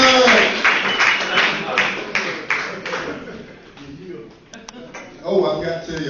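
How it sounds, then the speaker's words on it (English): Audience at an amateur night church comedy show applauding comedian Polo, a burst of loud clapping that thins into scattered claps, with talking over it. "Hey, y'all clap it up for POLO done."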